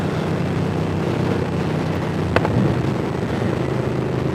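A KTM Super Duke 1290 motorcycle roars continuously under throttle as the rider twists the grip, its loud broadband engine and wind noise steady throughout, with a brief sharp click partway through.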